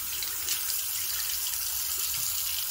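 Hot water runs steadily from a tap fed by a Thermomate ES250 2.5-gallon electric mini tank heater, a constant close hiss and splash with no pauses.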